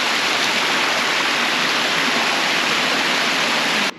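Water rushing steadily through a culvert partly clogged by a beaver dam of branches and twigs at a provincial park bridge, a loud continuous broadband roar that cuts off abruptly near the end.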